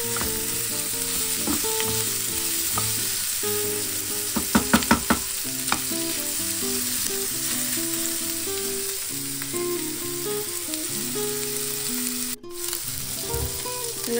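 Meat frying in just a little oil in a pan for Filipino adobong sitaw, a steady close sizzle with occasional stirring scrapes and a brief cluster of sharper clatters midway.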